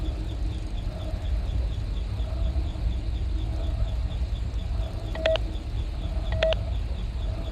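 Keypad tones in FNAF: Sister Location: two short quick pairs of electronic beeps over a loud steady low hum, otherwise no other sounds.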